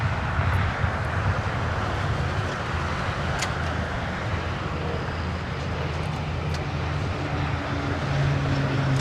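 Aircraft engine roar at LAX airport in Los Angeles, a steady broadband rumble with a low drone that holds loud and constant throughout, no talk.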